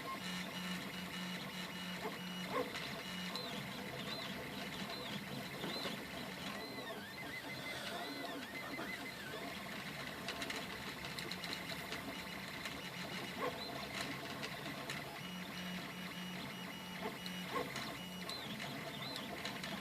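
A 3D printer prints an image onto frosted glass, its steady mechanical whir and stepper-motor tones running continuously with small ratcheting, gear-like variations, close and alone without voices.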